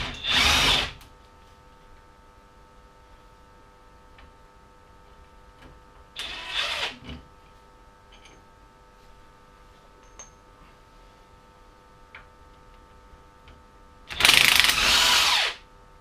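An impact wrench or power drill removing brake caliper bolts on a Lotus Elise S2, sounding in three separate bursts at the start, middle and end, with quiet workshop hum in between.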